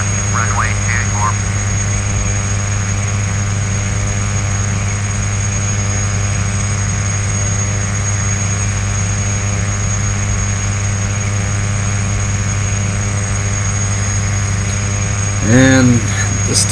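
A Piper Malibu PA46T Jetprop turboprop cruises in flight in simulation, a steady, loud, unbroken engine drone with a low rumble and constant high whine that holds throughout. Brief short sounds break in near the start and end.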